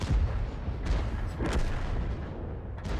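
A World of Tanks artillery shot from the Object 261 self-propelled gun sounds as a deep rumbling boom and rolling echo, followed by more muffled thuds at moderate volume, with no talk.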